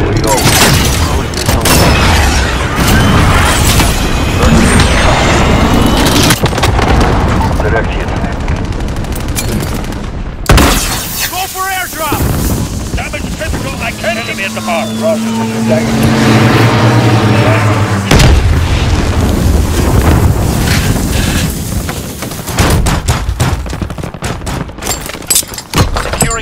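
Cruise missile strike explosions in Call of Duty: Modern Warfare 2 come as heavy booms among dense gunfire, loud and continuous over the whole stretch, with game voice callouts heard under the barrage.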